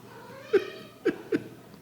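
A house cat meows loudly three times in short bursts while carrying a fake toy mouse indoors, close to the listener with quiet room tone between calls.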